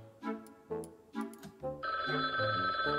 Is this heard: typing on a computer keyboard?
no